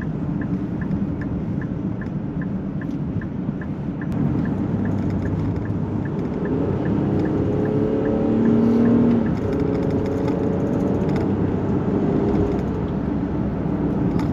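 A 2024 Nissan Pathfinder SUV's engine hums faintly beneath steady broadband road and cabin noise while driving, a continuous muffled drone with no voices.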